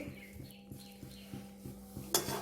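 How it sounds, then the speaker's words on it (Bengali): Hilsa fish being stirred into curry in a cooking pan, heard as a steady series of soft, evenly spaced scraping taps of a utensil against the pan, close and quiet, ending in a brief louder clatter. "মাছটা দিয়ে একটু নেড়ে নেবো এইভাবে"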